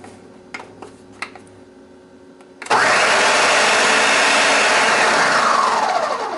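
Blender switching on abruptly after a few quiet clicks and taps, then a loud, steady high whirring roar as it purees a marinade for Cuban pulled pork, sustained close-up to the end.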